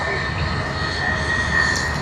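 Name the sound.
Malaysia Airlines aircraft engine at Sydney Airport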